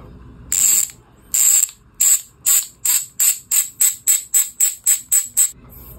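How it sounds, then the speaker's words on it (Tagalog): Ratchet clicking of a Thunder MTB rear hub with a CNC-machined 6061 alloy body, heard as about fourteen sharp buzzing bursts that start slow and speed up into a steady, rapid rhythm, loud and close with no talking. "sound check natin"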